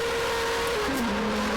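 Race car engine in a Monza Grand Prix video game dropping in pitch as the car locks its brakes and slides sideways, a steady high engine tone that abruptly steps down, with faint tire noise and no voices.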